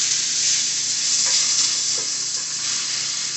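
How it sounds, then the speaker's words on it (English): Finely diced onion, one large onion, fries in hot oil in a pan, a close, continuous bright sizzle with faint stirring scrapes over it, heard alone without talk. "We're going to go ahead and add onion and fry this."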